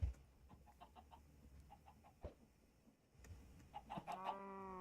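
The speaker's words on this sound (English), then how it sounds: "I just got a chicken from that." Minecraft chicken clucking in short, soft bursts, repeated several times at low volume, with a final longer cackle near the end.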